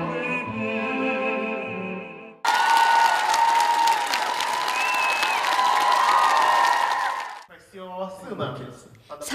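A concert audience gives a choir a standing ovation after a baritone sings a song, with dense, sustained clapping and cheering breaking out as the music ends. The applause fades after several seconds.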